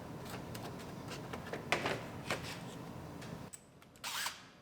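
A power tool unbolts the top of a bumper cover on a 2018 Ford Explorer Limited AWD, giving short close whirring bursts and clicks over a low hum, ending in a brief louder spin.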